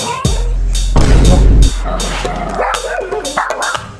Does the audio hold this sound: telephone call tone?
no